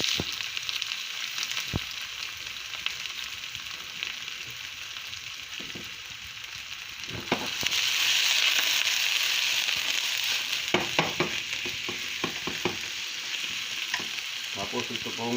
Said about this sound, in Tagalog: Yan, magigisa po tayo. Yung bawang,